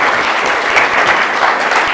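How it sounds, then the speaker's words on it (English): A room of guests at a real estate fireside chat gives a warm round of applause, dense and continuous clapping close by with no talk over it. "Can you guys help give me a round of applause?"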